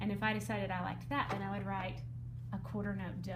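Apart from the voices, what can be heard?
None of the usual background noises is heard.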